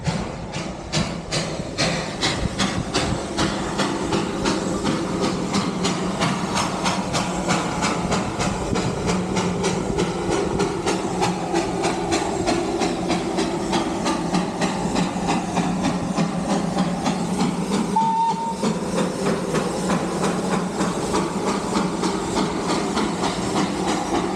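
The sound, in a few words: train departing at Batasia Loop, Darjeeling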